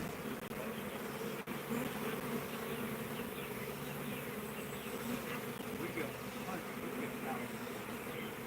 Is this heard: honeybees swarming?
yes